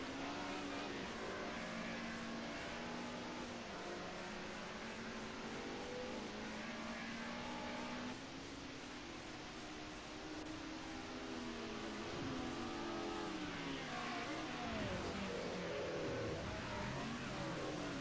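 A touring race car in the Group A1 Tourers class, a red Mercedes, runs through the Klein chicane at Zolder. Its engine drones steadily and the pitch rises and falls as it brakes and accelerates out of the corner.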